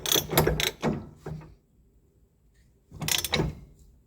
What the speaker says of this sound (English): And then what we do is take our ratchet